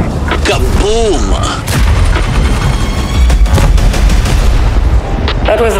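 A destroyed tank blows up in the World of Tanks video game with loud, dense booms and gunfire-like blasts that fill the whole stretch, close and heavy, while voices talk over the battle.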